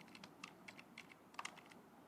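Computer keyboard keys, arrow and shift, clack quietly in a quick, uneven run of taps close by.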